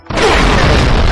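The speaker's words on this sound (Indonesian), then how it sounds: "Oh, itu bom ternyata." A bomb blast from the Nintendo Switch game Space Grunts: one sudden loud boom with a sharp onset, then a dense rumbling roar that fills the rest of the moment without fading.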